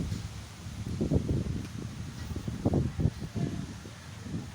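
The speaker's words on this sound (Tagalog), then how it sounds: "yan tinatawag sa inyong bagyo. Malakas ang hangin." Strong typhoon wind gusts in irregular bursts, rustling leaves close by with a rough, blustery roar that swells and fades.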